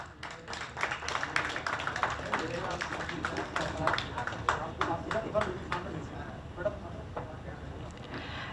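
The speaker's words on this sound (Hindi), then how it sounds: "तालियां ज़ोरदार बजाएं" Theatre audience at a stage play applauding vigorously: dense, continuous clapping from many hands fills the hall, steady and fairly loud for several seconds, with faint voices underneath.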